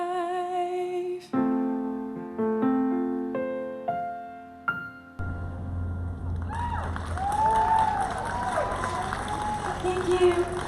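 An audience at a Meadville Master The Mic 2025 singing event breaks into applause after a singer finishes, following sustained piano-like notes; the clapping and cheering rise into a steady, fairly loud wash.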